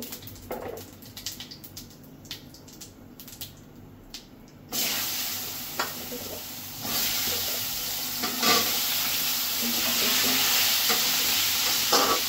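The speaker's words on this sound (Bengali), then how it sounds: "এখন আলুটা আর পটলটা আমি একসাথে ভেজে নিব" Potato and pointed gourd fry together in oil tempered with cumin, first quieter stirring, then a loud burst of hissing sizzle that continues strongly with spatula scrapes.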